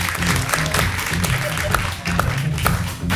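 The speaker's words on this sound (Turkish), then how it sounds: "Hanımefendiyi alkışlıyoruz" A studio audience on a Turkish late-night talk show applauds a woman guest, with dense, steady clapping through the whole stretch and voices mixed in underneath.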